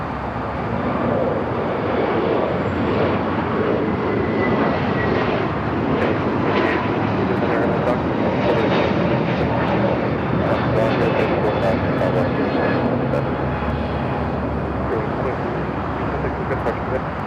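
An airplane lands on runway 25 left at LAX, its engines a steady broad roar held for the whole stretch, with radio voices talking over it.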